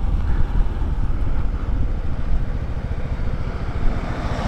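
A motorcycle engine drones steadily up close on a mountain road near Baler in view of the Sierra Madre, mixed with rushing wind buffeting the microphone, no voices.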